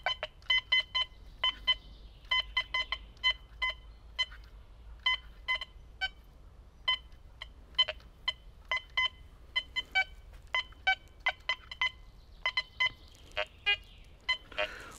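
Quest X10 IDmaxX metal detector in a depth test: rapid, irregular electronic beeps and chirps in quick bursts over a faint low hum, fairly close and steady throughout.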